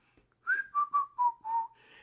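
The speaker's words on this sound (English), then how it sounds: "I was walking down the street whistling" A person whistles a short tune of five clear, sustained notes that step downward in pitch, alone and fairly close in an otherwise quiet setting.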